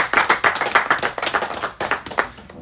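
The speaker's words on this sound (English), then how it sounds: "Let's welcome him with a clap." An audience at a career fair in Ghana claps to welcome a speaker, a dense run of steady hand claps close to the microphone with no talk over it.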